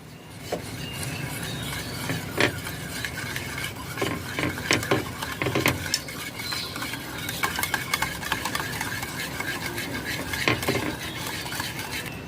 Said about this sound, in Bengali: চিনি দইয়ের সাথে মিশিয়ে যাওয়া পর্যন্ত নাড়তে হবে